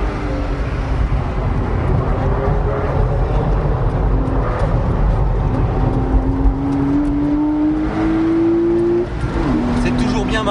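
A Porsche Boxster 2.5 runs through the Carousel banked corner of the Nordschleife, a steady close engine drone inside the cabin with a gradually rising pitch and road rumble, then a brief dip near the end.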